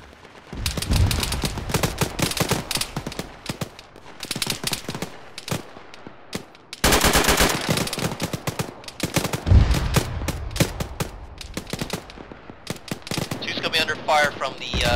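Sustained automatic gunfire and rifle shots from a firefight in the military video game Arma, dense bursts rattling through most of the stretch with brief lulls, radio chatter from players heard over the shooting.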